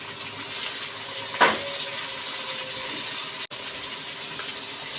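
Onion and tomatoes sauté in a pan for sambar with a constant, moderate sizzle, broken by one soft thump partway through as ingredients land.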